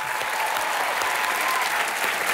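A studio audience at the Comedy Nights With Kapil comedy show breaks into loud, steady applause, a dense wash of clapping that holds evenly throughout without any talk over it.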